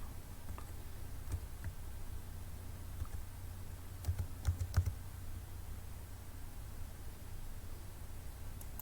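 Someone types a password on a computer keyboard, giving soft scattered key clicks with a brief cluster of sharper taps near the middle, set over steady low background hum.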